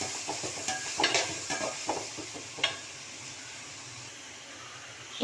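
Tomatoes sauté in oil over a high flame for a dried-fish karuvadu thokku, giving a continuous close sizzle broken by several scraping stirs of the spoon against the pan early on, then settling into a steady fry.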